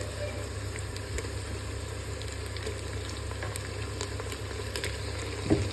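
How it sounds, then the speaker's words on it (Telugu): Washed chicken goes into a hot pan of fried spices for Raju gari kodi pulao, with a steady sizzle and low crackle close by and a brief louder sputter near the end. "ఇప్పుడు మనం కడిగి పెట్టుకున్న చికెన్ వేద్దాం."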